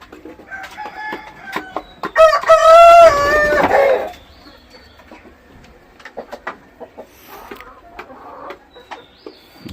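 Australorp hens laying eggs: a loud, drawn-out fowl call rises near the start, then short scattered clucks and squawks follow at varying distances.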